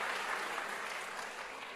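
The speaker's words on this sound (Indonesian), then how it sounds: "Tepuk tangan dong buat mantap." A congregation at a church service claps together in a dense, steady burst of applause that holds through the whole short stretch, with no voices rising above it.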